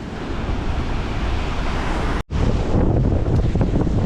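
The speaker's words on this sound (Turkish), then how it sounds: "Bu taraf gördüğünüz gibi aşırı dalgalı." Rough waves surging against artificial rocks on a Cancun shore, a loud continuous roar heavily buffeted by wind on the microphone, with a brief dropout midway.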